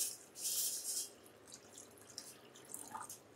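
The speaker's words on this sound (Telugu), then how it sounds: "ఇందులో ఇప్పుడు మనం ఒక 2 గ్లాసెస్ వాటర్ అయితే పోసుకోవాలన్నమాట." Water pours into a cooking pot set on a gas stove for dappalam, a brief splashing stream at first, then quieter trickles and drips, faint and close.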